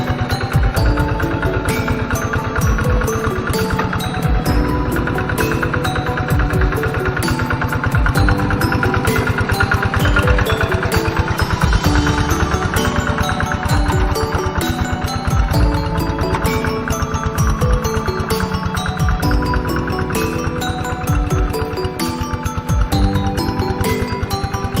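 A loud tractor engine runs steadily and continuously, a deep rumbling mechanical drone with a constant rhythmic chug and no pauses.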